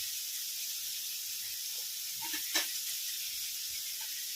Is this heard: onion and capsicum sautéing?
yes